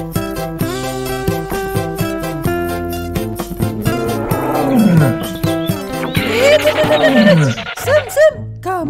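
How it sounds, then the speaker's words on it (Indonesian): A fierce tiger in a forest roars twice, in long falling growls around the middle and near the end, set against steady background music. "sepertinya di kampung truk oleng ini ada harimau buas Sam."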